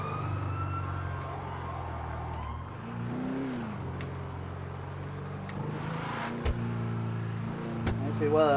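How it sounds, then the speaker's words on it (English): A police siren wails with rising and falling tones, heard from inside a moving car over the steady hum of its engine, while the vehicle drives along. "Well, I heard a siren."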